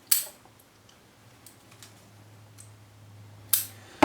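Scissors trim leaves from a plant cutting, with a few sharp, close snips spread across a quiet moment: one at the start, fainter ones in the middle and two at the end.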